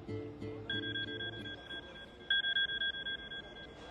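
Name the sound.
telephone ringing with an incoming call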